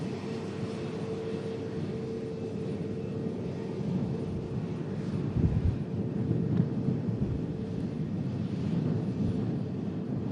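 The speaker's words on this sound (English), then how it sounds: "Next aircraft to touchdown, coming in from Belfast." Aer Lingus airliner arriving from Belfast and touching down in gusty wind, a steady low engine roar with a louder rumbling swell near touchdown, buffeted by wind on the microphone.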